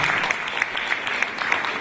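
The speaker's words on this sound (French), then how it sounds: "Donc je vais vous demander quand même de l'applaudir" A conference audience claps, a brief burst of steady applause from a crowd of hands, fairly close and continuous throughout.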